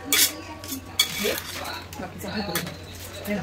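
A metal lid set onto a cooking pan, giving a few clinks and clatters of cookware close by amid kitchen handling noise, with a person speaking over it.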